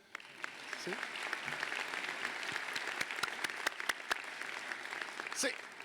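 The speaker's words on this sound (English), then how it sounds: "Can you clap for Juliet, please, for a minute?" An audience clapping for Juliet at a university presidential inauguration, a sustained wash of applause with sharper individual claps standing out, moderately distant and soft, with faint voices mixed in near the end.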